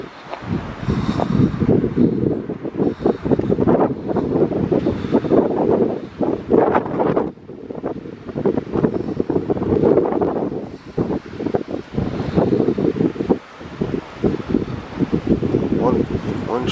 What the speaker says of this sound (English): Just a little bit of wind.